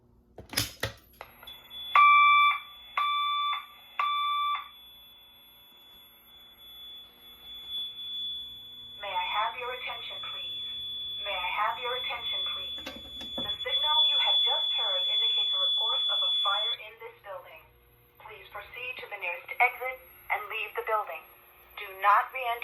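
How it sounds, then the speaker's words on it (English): Notifier AFP-200 fire alarm panel with VEC 25/50X voice evacuation: a loud three-pulse electronic tone pattern, then a recorded voice message broadcasting evacuation instructions, repeating with further tone bursts and a high steady whine. "the VEC will play a fire evac message and the mass strobe will flash"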